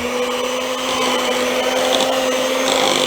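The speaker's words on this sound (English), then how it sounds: "I've got my hand mixer here. I could use my stand mixer, but I've got my hand mixer. I'm just going to cream these together." Electric hand mixer creaming eggs, sugar and Crisco for pound cake, a loud steady motor whine with a constant pitch and slight rubbing, running throughout without talk.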